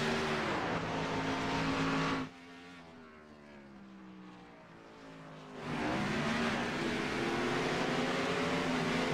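Race cars battling at Watkins Glen, engines roaring loud and close, dropping to a quieter distant drone mid-clip before surging back with revving passes.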